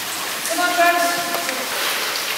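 Steady, dense hiss of rain and running water fills a wet, abandoned railway tunnel, with a faint voice murmuring briefly underneath.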